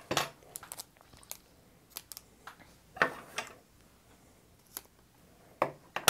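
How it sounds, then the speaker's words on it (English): Scissors snipping open a snack package, a series of sharp, irregular clicks and crinkly cuts, close and fairly quiet with gaps between them. "It says to cut it, so let's go ahead and cut it."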